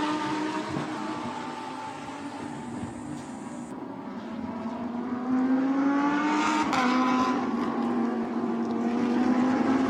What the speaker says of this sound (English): race leader Ochai, as these 2 scrap coming through the penultimate corner of the lap